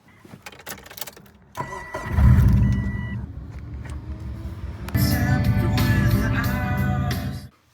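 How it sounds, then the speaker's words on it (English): A car engine cranks over and starts, then idles and revs as it is driven off toward a garage, a steady close rumble that grows louder partway through. "let me just drive to the garage"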